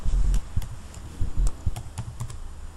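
Typing Python code on a computer keyboard, a quick irregular run of close, clicky keystrokes with short pauses, heard alone.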